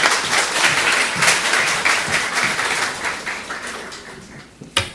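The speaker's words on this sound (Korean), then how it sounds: "그래서 황여경 목사님 잠깐 인사해 주실 때 여러분 박수로 맞이해 주시기 바랍니다." A church congregation in Osaka applauds to welcome a pastor, a dense burst of clapping that starts loud and slowly thins toward the end, with no speech over it.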